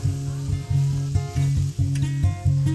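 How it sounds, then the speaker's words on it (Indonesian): Ground garlic, pepper and salt spice paste sautéing in a hot pan, a loud steady sizzle with repeated stirring scrapes and pulses through it, close up and alone. "tumis 2-3 menit sampai si bumbunya itu bikin aroma dapur wangi banget"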